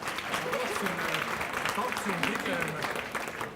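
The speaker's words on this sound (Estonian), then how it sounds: "Aitame teda aplausiga." An audience applauds a speaker being welcomed to the stage at an Estonian leadership conference. The clapping is moderately loud and continuous, with voices talking underneath it.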